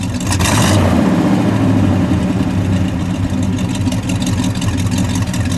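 A 1963 Studebaker Gran Turismo Hawk with the R2 engine revs hard up close, a loud, sustained roar that holds high and rough through the whole stretch.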